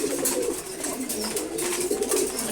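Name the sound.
pigeons cooing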